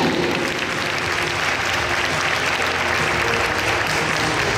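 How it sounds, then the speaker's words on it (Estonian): Loud, dense applause from an audience at a gymnastics festival award ceremony, sustained evenly for several seconds with no break. "Teeme suure aplausi Kilingi-Nõmme võimlemise liikele Margit Schmidtile."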